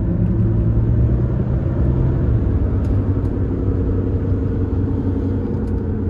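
A deep engine rumble holds steady and loud throughout, a 2021 Fiat Toro Ranch 4x4 with a 2.0 diesel engine accelerating under load, with no voices.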